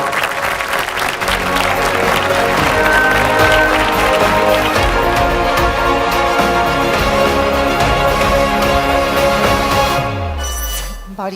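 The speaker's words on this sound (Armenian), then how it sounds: "Բարձր ծափահարություններ։" Loud, sustained applause fills a hall at an award ceremony for a humanitarian prize, a dense wall of clapping that holds steady for about ten seconds before fading out near the end.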